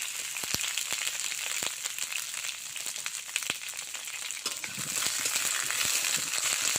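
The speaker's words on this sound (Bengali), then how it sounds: "পটলটা একটু লাল লাল করে ভেজে নেব।" Pieces of pointed gourd frying in hot oil in a pan, a steady loud sizzle and crackle with occasional sharp pops, rising slightly toward the end.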